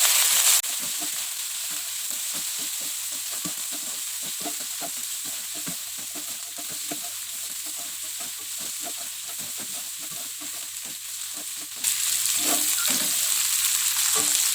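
Green beans and petai stir-fry in a hot pan, a continuous loud sizzle with rapid, irregular clicks of the spatula stirring, heard alone for over fourteen seconds.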